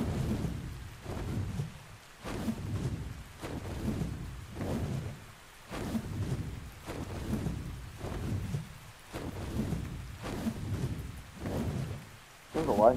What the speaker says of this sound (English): There's a lightning storm.